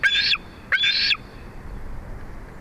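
A young bald eagle near its nest lets out two high, thin, squealing calls in quick succession, fairly close and loud, then only outdoor background noise.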